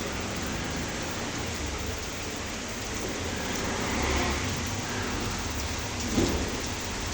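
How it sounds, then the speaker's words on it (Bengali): Rain falls steadily with a full, close hiss; a low rumble swells briefly midway and a sharper patter stands out near the end. "একটু বৃষ্টির শব্দ শোনাই"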